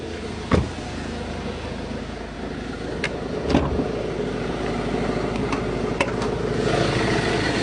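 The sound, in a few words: car engine running while moving the car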